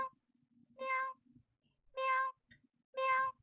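Someone imitates a cat meowing, three separate drawn-out meows spaced about a second apart, close and clear over near silence.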